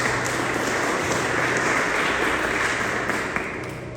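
A church congregation applauds during a Spanish-language service, a steady wash of many hands clapping together that holds for several seconds and thins slightly toward the end.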